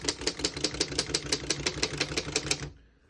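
Brisk, evenly paced keystrokes hammer on a 1935 Underwood 11 desktop typewriter, about a dozen crisp mechanical clacks close by before the typing stops.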